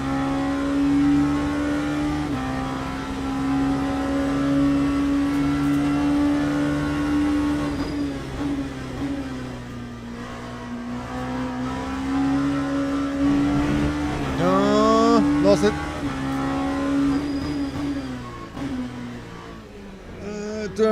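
Racing video game car engine revving and shifting through gears, a loud sustained drone that rises and falls with sharp upshifts and a brief tire squeal, heard alone without talk.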